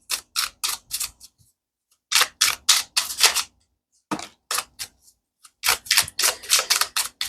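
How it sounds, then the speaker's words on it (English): Rapid bursts of crisp riffling from a shuffled tarot deck come in three clusters, each a quick flurry of snappy clicks separated by brief pauses, close and clear. "I'm just shuffling like the clarifying deck at the minute"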